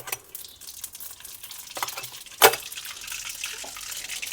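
Mustard seeds sizzling in hot oil for tempering, a soft crackle and hiss with a sharp pop or clatter midway as more goes into the pan, close and moderately quiet.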